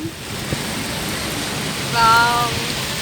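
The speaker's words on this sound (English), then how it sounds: "It's raining heavily." Heavy rain falls steadily in a hilly outdoor setting near Warangal, a dense continuous hiss with a brief faint tonal sound partway through.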